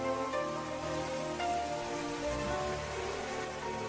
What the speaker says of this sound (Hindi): आज की तरह उस दिन भी बारिश हो रही थी।